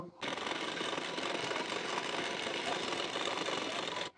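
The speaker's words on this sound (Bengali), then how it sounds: "সোজা সাইডের উপর রেখে এখান থেকে সেলাইটি দিয়ে নেব।" A sewing machine stitching a hook strip onto a blouse runs in one continuous, close, steady mechanical whir for about four seconds, starting and stopping abruptly.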